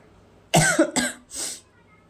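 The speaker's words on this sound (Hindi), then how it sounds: "तो थोड़ी दिक्कत हो रही होगी आपको मेरी खांसी वासी से" A woman coughs close to the microphone in three or four harsh bursts with a short pause between them, with no other sound around them.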